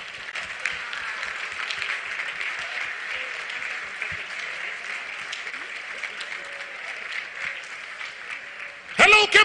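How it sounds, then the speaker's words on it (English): Audience at a youth dialogue event in Cape Coast, Ghana, rising in applause for a finance minister: a long, dense wash of many hands clapping, steady and full throughout, swelling louder in a final burst. "let's all rise up with a massive, massive round of applause"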